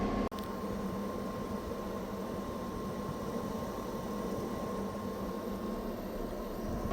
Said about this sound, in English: That's a 12 volt Nomadic Cooling X2 air conditioning unit.